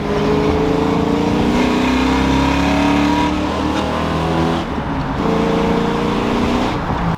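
A Ford Fox Body Mustang engine drones steadily while driving, loud and close with a deep, continuous exhaust note and slight shifts in pitch as the revs rise and fall, with no talking over it.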